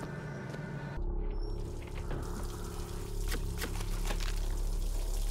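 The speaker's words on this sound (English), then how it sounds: "I'll leave every sink running in Columbia." Running sink water in BioShock Infinite's city of Columbia, a steady close pour and trickle that hisses continuously after a brief lull, with faint drips over a low hum.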